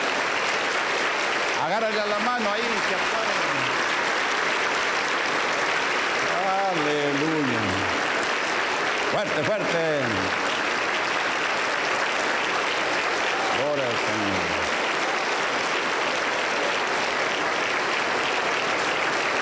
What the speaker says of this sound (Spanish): Fuerte aplauso para Cristo.